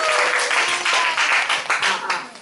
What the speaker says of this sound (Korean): 우리 박수해 주시기 바랍니다.